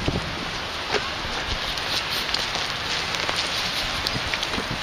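Heavy rain pours outdoors at night in Oshawa, a dense, steady hiss of drops spattering close by with occasional sharper taps.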